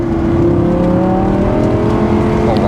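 Mercedes A35 with an automatic gearbox accelerating on a winding road, a loud steady engine drone with rising tone heard from inside the car, continuous and close.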